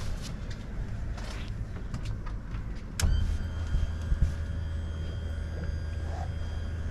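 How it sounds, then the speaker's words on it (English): A sharp mechanical clunk, then a boat outboard engine's electric tilt motor whines steadily at close range while lowering the engine, droning on under light rustling and a few knocks. "And then we'll drop the engine again."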